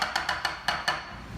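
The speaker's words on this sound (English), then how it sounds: "I'm going to take my potato smasher and smash this cranberry sauce a little bit." Potato smasher pressing down into cranberry sauce in a bowl, six quick squelching thumps in a fast rhythm, close and fairly faint with no talking.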